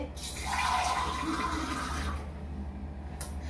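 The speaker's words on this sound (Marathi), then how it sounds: "हे बघ, हे पाणी टाकलंय" Water pours in a steady splashing stream into a cooking pot for about two seconds, close by, then stops, leaving a low background hum.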